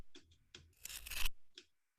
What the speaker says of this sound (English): Soft metal wire scratch movement.